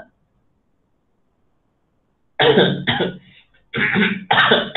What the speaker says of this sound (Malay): Saya batuk-batuk ni